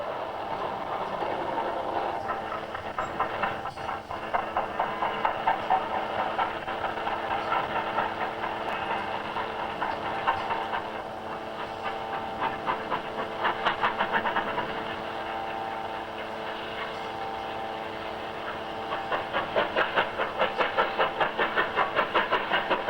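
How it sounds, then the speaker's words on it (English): A failed steam locomotive in poor condition struggles to haul the afternoon up train on the S&D line on a snowy winter day, giving a steady, labored chuffing over a low mechanical drone at moderate distance with no voices. "The failed engine was still expected in its parlous state to deal with the afternoon up train, and indeed just struggled through in the gloom very late"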